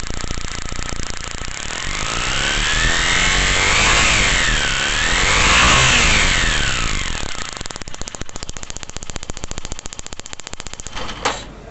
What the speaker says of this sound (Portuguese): Quando eu acelerei a motocicleta,